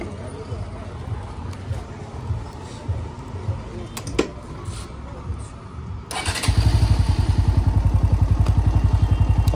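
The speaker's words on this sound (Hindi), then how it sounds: "अब तो एक बार में चालू हो रही है" A Honda NS125 BS6 motorcycle sits quiet amid low voices and some clatter, then its engine catches on the first try and settles into a loud, close, steadily pulsing idle.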